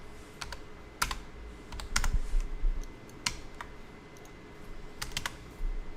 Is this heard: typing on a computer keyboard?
yes